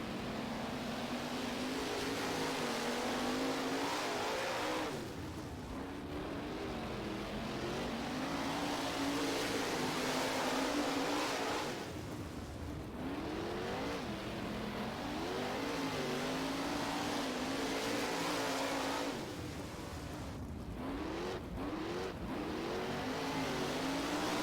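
Several 410 sprint car engines race together in the rFactor sim, a loud continuous roar with harmonic pitch sweeps rising and falling as throttle is lifted and reapplied, dipping briefly around corners, no talking.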